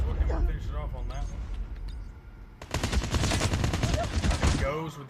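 AK rifle fire in a Call of Duty Mobile 2v2 esports match bursts out in rapid automatic volleys, heavy during the second half, with an excited commentator talking over it throughout.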